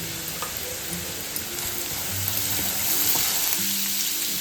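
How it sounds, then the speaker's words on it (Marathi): Masala with asafoetida and turmeric fries in a pan with a continuous close sizzle, and occasional stirring scrapes cut through the hiss. "मसाला चांगला परतून घ्यायचा।"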